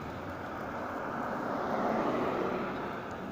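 An airplane passes overhead as a steady, broad roar that swells slightly midway, heard outdoors from a distance with no talk.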